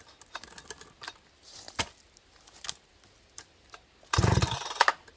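Farmertec 288 kit chainsaw being started, a series of sharp pull-cord clatters and scrapes, then a short loud burst of engine sputter near the end, close by with no talk.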